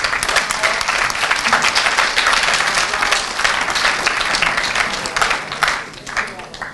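A seminar audience bursts into dense, sustained applause at an Italian lecture on the frontiers of communication, many hands clapping loudly and evenly, fading slightly near the end.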